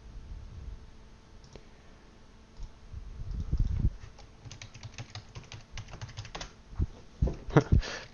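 Keystrokes on a computer keyboard while logging in to a Windows server, a run of close, irregular clicks with a denser flurry of taps near the end, no voices.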